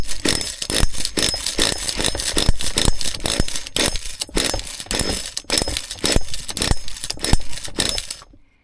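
A vintage HPI MT2 nitro RC truck engine being started in a garage, giving a loud, continuous mechanical rattle with rapid repeated pulses that run steadily for about eight seconds before cutting off abruptly.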